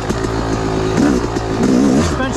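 A Yamaha YZ250 two-stroke dirt bike in woods trim, with a head and flywheel weight on stock gearing, revs loud and close, its engine note rising and falling in quick surges with no talk over it.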